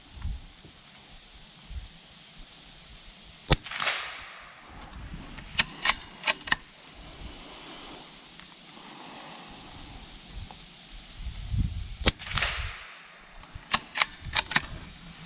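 Rifle shots from a Sako Quad .22LR bolt-action rimfire fire as sharp, fairly faint cracks, one around four seconds and another near twelve, with a cluster of quicker clicks and snaps in between.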